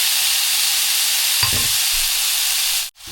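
Pork belly sizzles in a pan with no added oil, rendering its own fat; a steady, loud broadband hiss runs throughout, with a brief stir or clatter midway and a sharp cut near the end.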